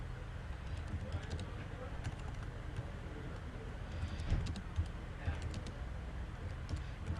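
Soft, quick clicks of a computer keyboard as Pascal code is entered, faint and steady against low room noise.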